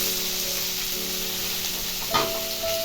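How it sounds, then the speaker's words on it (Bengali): Onion and chopped tomato fry in a pan with a steady, close sizzle, broken by a brief clatter of stirring near the end, with no talk. "এই দেখুন, পেঁয়াজটা আমার একটু ভাজা ভাজা হয়ে গেছে। এবার দিয়ে দেবো টমেটো কুচি।"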